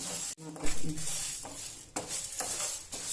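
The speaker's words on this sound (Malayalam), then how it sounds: "ഉഴുന്നിന് ചെറുതായിട്ടൊന്ന് നിറം മാറി വരണ വരെ നമുക്കിതൊന്ന് വറുത്തെടുക്കണം" A spoon scrapes and clinks against a pan in irregular strokes, close by, with faint rustling of dry lentils and no talk.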